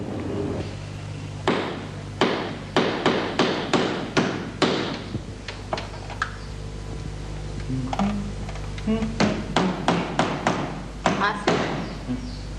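Hammer blows strike in quick irregular bursts, loud and close, with sharp taps clustered together and brief pauses between runs, over a low steady background hum.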